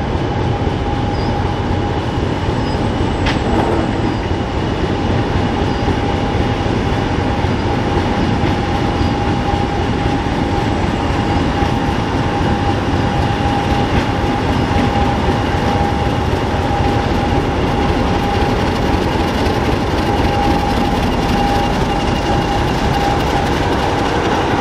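Locomotive 5008 Thunderer runs on the North Norfolk Railway at a mixed traction gala, a loud and continuous rumble of rolling wagons with a steady tonal whine carried throughout, heard up close.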